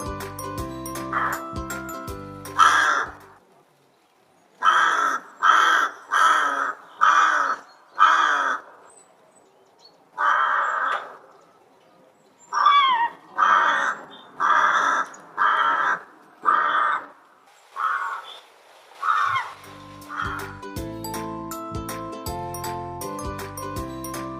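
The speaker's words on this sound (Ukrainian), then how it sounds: "Послухаймо пісню грака." A rook gives a series of harsh, separate caws, about a dozen spaced calls, loud and close, with tinkling music before and after.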